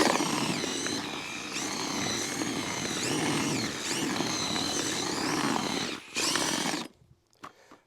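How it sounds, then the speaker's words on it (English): A loud, steady whine of an electric drill mixing fishing groundbait in a bucket, running continuously with shifting pitch, then cutting off abruptly near the end, leaving quiet background. "It's always important when you're drilling ground bait to make sure that you get in all of the corners"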